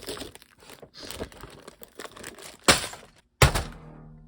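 Cardboard thumb tabs on a LEGO Mandalorian Starfighter set box are pulled open, giving soft scraping and crinkling, then two loud sharp tearing pops close by.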